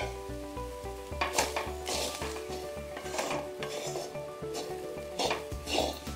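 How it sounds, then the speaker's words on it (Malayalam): Grated coconut and curry leaves stirred in a hot pan for chammanthi podi, with soft sizzling under repeated scraping strokes of a spoon against the pan, close and fairly quiet. "ഇതുപോലെ നന്നായി ഇളക്കി കൊടുക്കണം, അല്ലെങ്കിൽ തേങ്ങ കരിഞ്ഞു പോവും."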